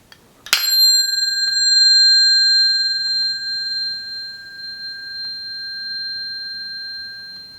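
A single bell strike rings out sharply, then its clear, pure tone sustains and slowly decays over several seconds in a quiet space, with a couple of faint light taps in the background.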